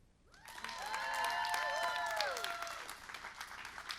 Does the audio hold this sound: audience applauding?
yes